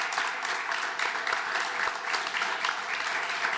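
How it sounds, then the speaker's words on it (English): Steady round of applause from an audience thanking a discussion panel at a conference session, a dense even wash of many hands clapping continuously throughout. "Could you just give our amazing panel another big round of applause?"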